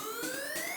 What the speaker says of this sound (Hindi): एम्बुलेंस कहाँ से आ गया?